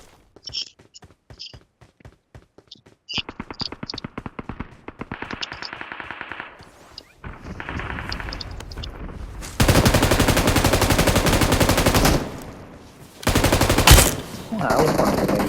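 Automatic gunfire in a mobile shooting video game: clipped bursts of rapid shots at first, then longer dense sustained volleys that grow louder and fuller, broken by short pauses, with a player's voice faintly present.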